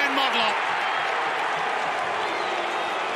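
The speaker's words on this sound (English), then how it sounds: "Crowd screaming ball." Spectators at an AFL football match roar and cheer in a dense, sustained swell, with a commentator talking over the noise.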